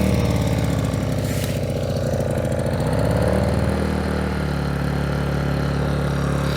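An Aivolt 1600 watt super quiet inverter generator pull-starts and settles into a steady running drone, a continuous mid-pitched engine hum heard close and fairly loud throughout.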